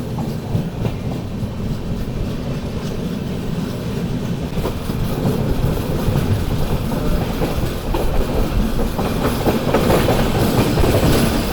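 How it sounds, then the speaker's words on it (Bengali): The Agnibina Express, heard from a general coach, rolls steadily out of Andal Junction with a continuous rumble and rhythmic clickety-clack of wheels on rail joints, growing slightly louder toward the end. "আমাদের ট্রেন ছেড়ে বেরিয়ে যাচ্ছে অন্ডাল জাংশন"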